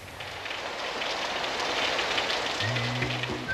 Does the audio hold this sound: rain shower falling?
yes